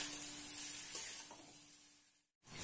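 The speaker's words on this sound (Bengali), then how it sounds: "এবার একটু ভালো করে মিশিয়ে" Maggi noodles being stirred and mixed in a frying pan with white cooking oil, a steady close sizzle with scraping spatula strokes that cuts off abruptly near the end.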